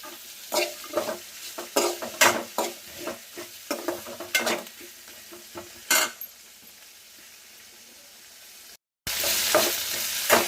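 Food roasting and frying in oil in a pan, bursts of sizzling crackle with stirring scrapes in an irregular rhythm, a brief silent gap, then a dense continuous sizzle resuming loudly.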